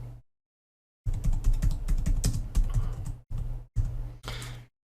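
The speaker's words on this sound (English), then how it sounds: "Type in delete users, hit delete" Close keyboard typing in two bursts of rapid clicking keystrokes, broken by short pauses, with no voices.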